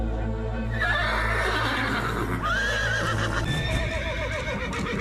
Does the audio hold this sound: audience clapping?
no